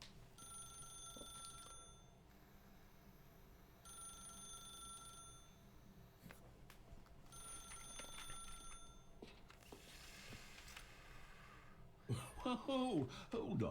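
A telephone rings in the video game The Stanley Parable, with three evenly spaced bursts of electronic ringing that are fairly faint over a quiet room tone, then other game sounds near the end.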